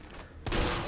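Gunfire from Resident Evil 3 Remake erupts abruptly after a quieter stretch, a loud dense blast that keeps ringing to the end of the very short moment.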